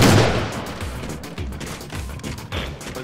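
Rapid gunfire bursts in Halo 4 multiplayer, loud and close, overlapping shots in a dense fusillade that fades slightly but stays continuous.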